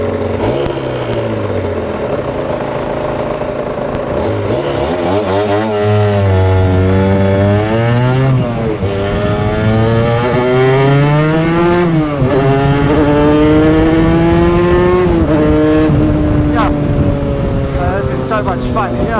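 An Aprilia RS two-stroke motorcycle engine revs hard and loud, its buzzing, raspy pitch rising and falling repeatedly through the gears, with people talking over it.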